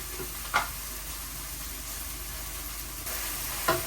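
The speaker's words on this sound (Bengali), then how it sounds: "এই যে এখানে ভেন্ডি দিয়ে ভাজি বসাই দিচ্ছি" Okra (bhendi) frying in a pan with turmeric and salt gives a steady, close sizzle and hiss throughout, broken by a few brief clatters from stirring.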